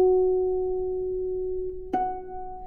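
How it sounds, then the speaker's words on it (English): Two soft, pure bell-like plucked harp harmonics, each ringing and sustaining; the second is struck just before the end, close and quiet. "The harmonic is also a signature sonority on the harp"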